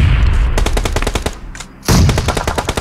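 Rapid automatic gunfire in a shooting video game, two close, loud bursts of evenly spaced shots with a brief lull between them and no talking.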